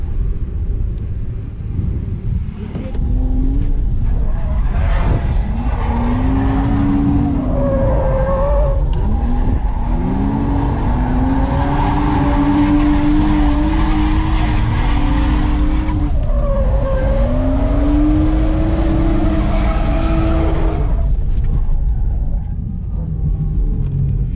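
A BMW E36 325 drifts with sustained, loud tire squeal and skidding over a deep engine rumble, rising and falling pitch in long sweeps from close onboard.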